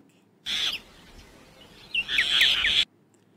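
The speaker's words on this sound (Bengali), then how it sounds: "শালিক," A common myna calling, with a short burst of notes followed after a pause by a louder run of chattering, whistling calls, clear and close with no one talking.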